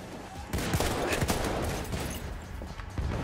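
Gunfire in the Battlefield 1 multiplayer game, a dense, fairly faint burst of overlapping shots and distant battle noise, continuous over a few seconds.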